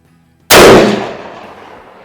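A single loud, close shot from a CVA Optima Elite single-shot break-barrel rifle chambered in .243 Winchester, firing a new test load. The sharp crack is followed by a rolling outdoor echo that decays over about a second.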